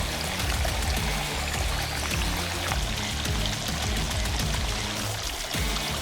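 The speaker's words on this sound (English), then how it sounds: "I'll drip some water onto the Spinosaurus' snout and jaws" Water pouring and trickling steadily onto a toy Spinosaurus's snout and jaws, a continuous close splashing stream with no pauses.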